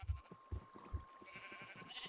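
Several white sheep bleat in the video game Minecraft, three short low bleats close together in the first second followed by softer overlapping bleats, faint overall.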